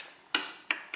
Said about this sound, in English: now this torque wrench says click